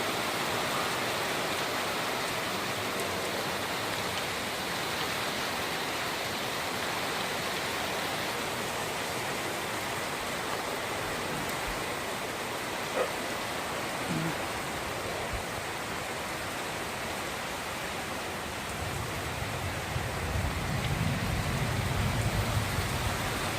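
Heavy rain pours down in a thunderstorm, a dense, steady hiss filling the whole clip, with a deeper rumbling swell rising near the end.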